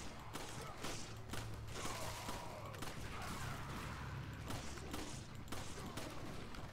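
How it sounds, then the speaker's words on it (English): Gunfire from the video game Resident Evil 5: a steady run of gunshot bursts over game noise and a low background hum, fairly even in loudness for several seconds. "From here, I can shoot these guys."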